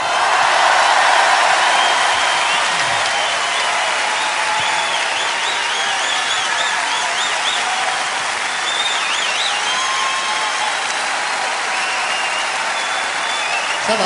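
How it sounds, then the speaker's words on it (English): Concert audience applauding and cheering in a large Paris arena during a 2004 show, a long, dense, roaring ovation with whistles and shouts, sustained throughout. "Applaudissez,"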